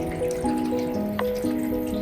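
Rainwater dripping and trickling through the rainhead of an off-grid rainwater harvesting system, with steady tonal drip notes over a continuous wet background, close and moderately loud.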